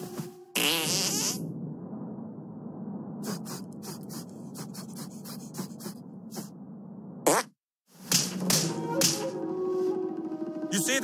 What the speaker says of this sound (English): I'm going to teach you a fart called the Sneaky Squeaker.